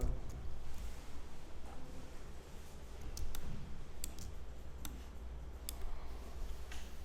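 Computer keyboard keys such as the tab key clicked during work in Adobe Illustrator, giving sparse sharp clicks spread over the stretch against a low steady background hum, with no talk.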